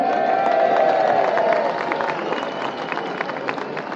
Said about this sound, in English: a big massive round of applause for Danny Lockwood.